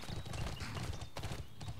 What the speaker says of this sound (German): Ist ja voll das Killerpferd.